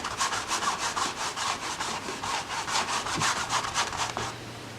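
A paint brush rubbed onto canvas to blend a snow mound in a Christmas landscape painting, heard as a steady, close, rhythmic back-and-forth scrubbing of about a dozen quick strokes, with no talking.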